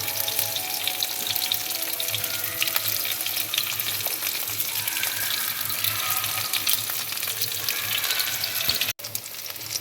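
Vanjaram fish coated in masala fries on a tawa with a steady, dense sizzle and crackle that runs evenly throughout, close and fairly loud, broken by one brief dropout near the end.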